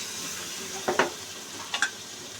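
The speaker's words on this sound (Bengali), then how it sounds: "দেখো আমি এবারে যে সর্ষে বাটাটা গুলে রেখেছি দিয়ে দিচ্ছি।" Mustard paste is added to potatoes frying in a pan. The steady close sizzle carries two quick bursts of spattering as it hits the hot oil, and no one speaks.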